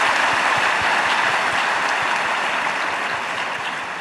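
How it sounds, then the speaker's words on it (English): Steady, full audience applause for quiz participants at a centenary celebration gathering, dense and continuous before gradually thinning toward the end. "Please give a big round of applause to all our participants."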